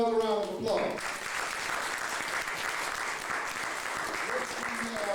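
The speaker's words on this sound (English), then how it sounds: "Give him another round of applause." An audience at a San Francisco poetry event applauds a poet with dense, continuous clapping that holds steady throughout, with a voice briefly audible at the start and again near the end.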